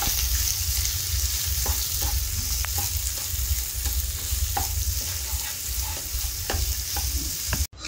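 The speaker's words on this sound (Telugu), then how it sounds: "అవి ఫ్రై అయిన తర్వాత సన్నగా కట్ చేసి పెట్టుకున్న 3 ఆనియన్స్, 1 పచ్చిమిర్చిని కూడా వేసుకొని ఫ్రై అయ్యే వరకు కలుపుకోవాలి." Three sliced onions and a green chili fry in a pan, a continuous close sizzle broken by regular scraping taps of a spatula stirring, no talk, ending in an abrupt clunk.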